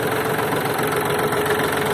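A Yanmar AF-24 Japanese compact tractor's engine idles steadily and evenly, a close, continuous low chugging hum with a faint knocking pulse and no voices.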